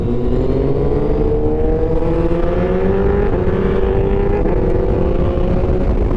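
A loud Yamaha Tracer 900 motorcycle engine drones steadily and climbs slowly in pitch, rough and close, without clear separate pops.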